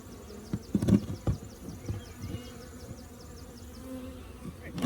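Close, continuous buzzing of a captured honeybee swarm, with the steady drone of many bees mixed with a few knocks and handling sounds at the start.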